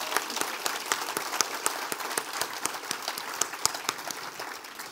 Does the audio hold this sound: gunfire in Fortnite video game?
no